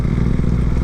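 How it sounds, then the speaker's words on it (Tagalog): A motorcycle engine runs on Petron fuel, giving a brief, steady, close mechanical drone with a slight rattling texture. "Maganda yung tunog ng motor natin pag Petron."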